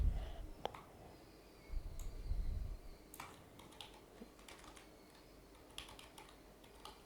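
Keys clatter on a computer keyboard as code is typed, with soft irregular taps, a few louder thumps and short pauses between bursts, heard close and fairly quiet.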